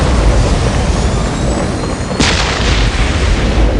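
Ork artillery pounding away in the Dawn of War strategy game, a continuous rumbling barrage with a sharp, sudden blast near the middle, loud and steady throughout with no voices over it.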